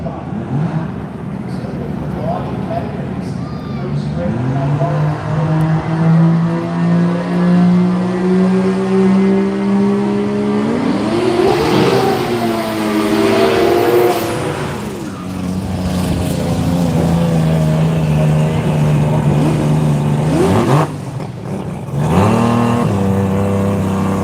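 A Mazda RX-2 race car with a 20B rotary engine howls loudly and continuously during qualifying, its pitch rising and falling through gear changes, with a voice briefly heard over the din.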